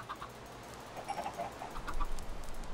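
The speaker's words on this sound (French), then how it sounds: "Tu surveilles les poulets, c'est ça?" Chickens in the Minecraft game cluck in short, soft clucks scattered across the moment, fairly faint against a low background hum, with no talking.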